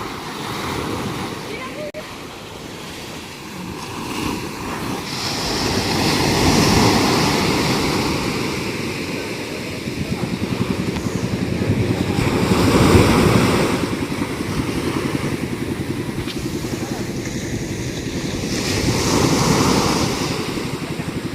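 Steady roar of ocean waves with swelling surges of surf, rough wind buffeting the microphone throughout.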